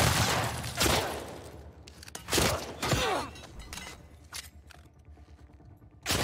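Gunfire rings out in The Last of Us Part II during a Seraphite ambush: several sharp, loud bursts with shattering impacts, spaced irregularly between quieter stretches of ambient noise.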